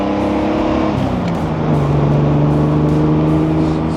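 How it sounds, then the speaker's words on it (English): A 1969 Jaguar E-Type Series II Roadster with its original matching-numbers engine revs loudly and close, the exhaust note climbing and holding steady as the car accelerates, with no talk over it. "I love to make it rev a little bit."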